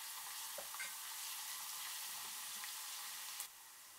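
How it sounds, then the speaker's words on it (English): Garlic and ginger stir-frying in a pan, a close continuous sizzle with light spatula scrapes, cutting off abruptly at the end. "Put the garlic, stir for 20 seconds."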